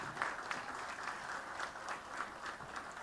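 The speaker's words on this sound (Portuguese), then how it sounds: "Palmas, então, para a família do acadêmico Ibrahim Abiakel." An audience at an academy induction ceremony applauds the family of academician Ibrahim Abi-Ackel, a moderate, fairly distant round of clapping with individual claps standing out.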